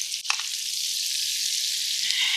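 Lamb chops searing in a hot pan give a loud, steady hiss of sizzling fat, opening with a brief sharp clatter as the meat is moved, then a continuous bright crackle with no talking.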